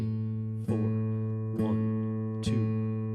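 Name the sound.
quarter note beats played as tones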